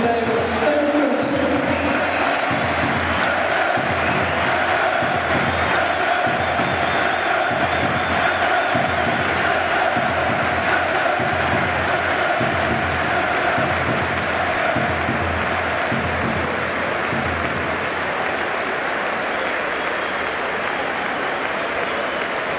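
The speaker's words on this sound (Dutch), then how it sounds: "ik stel voor dat we hem een staande ovatie geven en een daverend applaus" A large crowd gives a standing ovation for a footballer receiving the Golden Shoe 2016, applauding continuously and loudly, with scattered cheers and whoops mixed into the dense clapping throughout.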